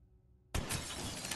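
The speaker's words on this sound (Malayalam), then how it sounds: "അവിടെ എന്തോ ഗ്ലാസ്സൊക്കെ പൊട്ടിക്കാണ്ട്." Glass shatters in the horror game Granny Chapter 3, a sudden loud crash after a near-silent start, followed by a second of bright, dense tinkling debris.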